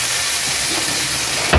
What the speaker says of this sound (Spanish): Lo dejamos que se fría un poquito.